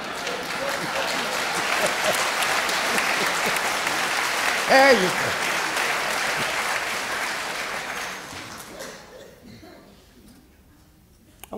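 A comedy-talk audience gives a sustained round of applause that fills the room, with a voice briefly heard over it before the clapping fades out.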